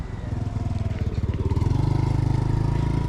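A small moped engine putters steadily nearby, its pulsing drone growing louder as it rolls past along a street on Maafushi island in the Maldives.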